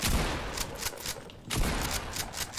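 Rapid gunfire from a weapon in Fortnite, dense bursts of shots crackling in quick succession across two rolls, loud and close with no talking.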